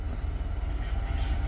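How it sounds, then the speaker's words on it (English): Class 66 Freightliner cement train passing through Shrewsbury, a deep rumbling, pulsing roar of wagons rolling past close by, steady and loud for the whole moment with no voices. "So it's a Friehgtliner train."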